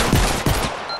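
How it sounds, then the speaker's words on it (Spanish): Gunfire in the Fortnite video game: a rapid burst of loud shots near the start, a second burst just before the middle, then trailing rattle that fades toward the end. "Me están disparando, tío."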